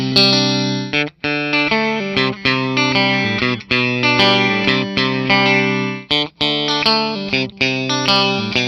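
A 2024 Fender American Performer Timber Stratocaster with a sassafras body runs through its basic tones, strumming a series of bright, sustained chords through chorus and distortion effects, with brief gaps between strums.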